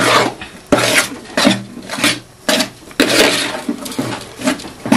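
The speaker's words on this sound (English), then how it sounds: "When you put your melon inside the pot," Melon seeds for egusi soup fry in a large pot as a spoon scrapes and stirs through them, giving repeated close, gritty rasping strokes with short pauses between, and no voices.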